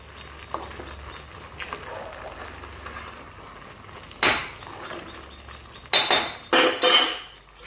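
Pots and utensils clatter in a home kitchen while khichdi is being cooked: a few isolated clinks and sharp scrapes, the loudest bursts coming in a quick cluster near the end, close by over a faint steady background hum.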